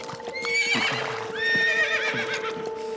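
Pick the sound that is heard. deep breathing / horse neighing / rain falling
horse neighing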